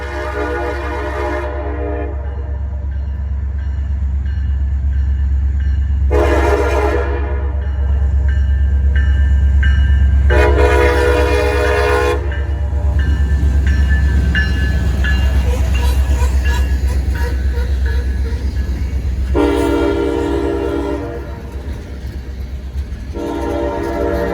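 A freight train with a caboose rolls past a crossing, its horn blasting in several long bursts over a loud continuous rumble and clatter of railcars that eases near the end.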